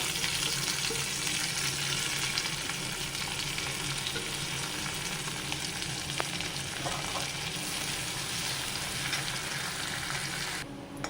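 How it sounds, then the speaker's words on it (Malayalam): Onions, curry leaves and garlic fry in hot coconut oil for jackfruit curry, a steady dense sizzle with faint stirring, close and continuous, no talking. "വെളിച്ചെണ്ണ മൂത്ത് വന്നു അപ്പോൾ അതിലേക്ക് ഉള്ളി കറിവേപ്പില വെളിച്ചുള്ളിയൊക്കെ ഇട്ട് കൊടുക്കുക"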